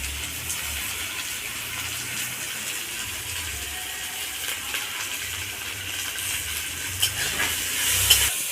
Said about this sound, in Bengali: এগুলো আমি তেলে ভেজে নেব।